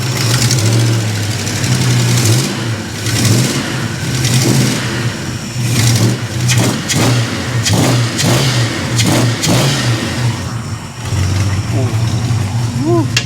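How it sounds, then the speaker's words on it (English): A 1973 Plymouth Scamp engine is revved repeatedly. A loud, close rumbling idle swells into a series of quick throttle blips and then drops back to a steady idle. "Give her a quick rev. I'll let you guys hear this."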